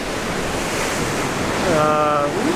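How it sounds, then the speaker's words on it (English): Waves crash against a big rock on the coast of Brazil, a dense, steady roar of surf mixed with wind buffeting the microphone, while a faint tonal whine rises near the end. "the waves are crashing into it and it gives really awesome splashes"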